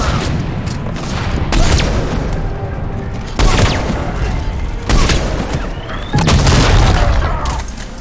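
Sniper rifle shots in the video game Mass Effect 3, several loud booming cracks at irregular intervals over a rumbling battle background.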